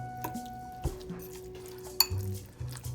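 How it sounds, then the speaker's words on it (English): Breakfast casserole ingredients and sautéed vegetables stirred together in a bowl: scraping, knocking utensil clatter with a sharp clink near the end, close and fairly quiet, with no talking. "We then mix this all up."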